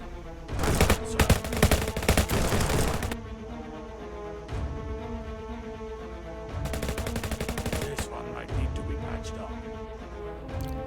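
Gunfire in the tactical shooter game Spy DNA: two loud bursts of rapid automatic shots, separated by a quieter stretch, with faint background game music and no speech.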